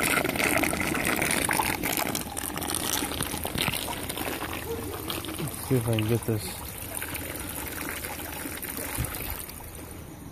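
Water runs steadily across a gold panning table outdoors, a continuous close rushing trickle with someone talking over it.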